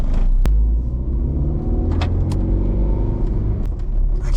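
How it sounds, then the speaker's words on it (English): An MK4 Volkswagen Golf with dragging rear brakes rolls along, its cabin filled with a loud, steady low road rumble, punctuated by a few sharp clicks and knocks, with no talking. "Oh, the rear brakes are dragging."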